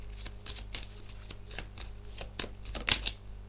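A deck of cards shuffled and drawn during a card reading, giving a close run of soft riffling flicks and slaps with a sharper snap near the end, over a faint steady hum.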